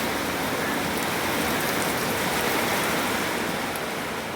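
Steady rain falls outdoors around a house, a dense even hiss of drops on surfaces with no pauses and no voices.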